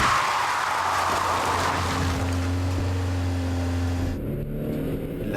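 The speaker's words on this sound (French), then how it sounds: "La voiture qui arrive respecte les vitesses 50 km/h, mais elle ne peut l'éviter." A car approaches on a road at about 50 km/h, a steady engine and tyre drone that rises and holds before cutting off near the end, heard alone with no talk.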